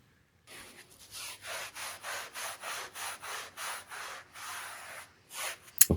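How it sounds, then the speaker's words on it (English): A stiff brush scrubs a dirty door mat in repeated back-and-forth strokes, about a dozen steady rasping passes at close range, with a brief clatter at the end. "I'm just scrubbing it in different directions. Just trying to work the dirt out."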